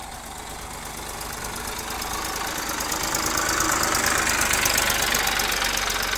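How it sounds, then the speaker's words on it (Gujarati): A tractor engine chugs steadily nearby, its knocking rumble growing slightly louder and fuller over several seconds. "ટ્રેક્ટર આવા દે હવડે હવડે"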